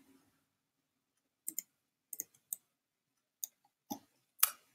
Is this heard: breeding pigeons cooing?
no